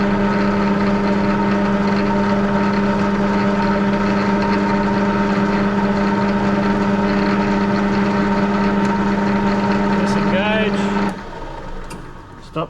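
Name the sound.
wood lathe turning a spindle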